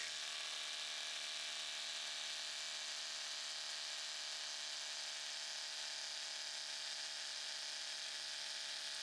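Ryobi impact driver on a 4 amp hour Edge battery runs without pause, a steady high-pitched whirring hum that holds level for about eight seconds and then cuts off.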